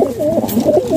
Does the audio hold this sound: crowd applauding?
no